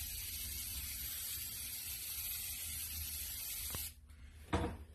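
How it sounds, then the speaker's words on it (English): A steady hiss of gold spray paint runs for about four seconds, then cuts off, followed by a couple of sharp mechanical clicks. "Some gold spray paint from about 3 feet away."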